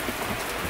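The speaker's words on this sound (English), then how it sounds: "they know it's raining" Rain falls steadily outdoors as a dense, even hiss at moderate level, with a brief louder patter at the very end; no voices are heard.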